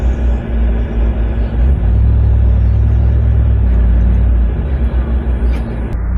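A Chevrolet SSR pickup truck pulls away with a low, steady engine rumble heard from inside the cab, swelling briefly as it accelerates, with faint road noise and a voice speaking over it.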